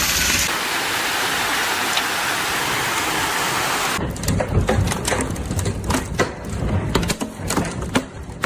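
Heavy rain during a storm in Yuma: a dense, loud roar of downpour with strong wind, then sharper spattering impacts as rain and hail hit surfaces nearby.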